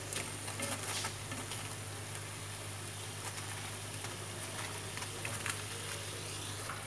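Bánh cam (Vietnamese sesame dough balls) fry in hot oil with a soft, steady sizzle and light crackling pops, fairly quiet and continuous.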